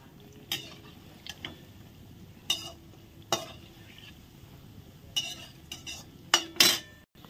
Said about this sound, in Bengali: এগুলো এখন আস্তে আস্তে উল্টে পাল্টে ভেজে নেব।